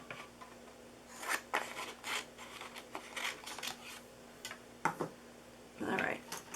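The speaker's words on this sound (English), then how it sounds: "I'm going to have to cut this, make it smaller so it'll go through the mini" Scissors snip through paper or cardstock in a handful of short, crisp cuts spaced unevenly, close and fairly quiet, with a soft rasping slide between cuts and no voices.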